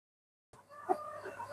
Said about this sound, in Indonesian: ini ayam sama kucing